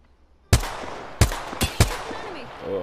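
Gunfire in a video game: four loud, sharp shots spaced irregularly after a brief quiet lead-in, each ringing out with a short tail.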